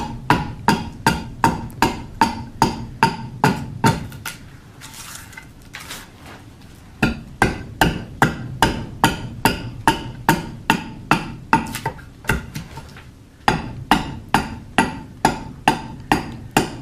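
An adze hewing a walnut bowl, striking the wood in fast, regular loud chops in bursts of a dozen or so, separated by short pauses with softer scraping and handling sounds between runs.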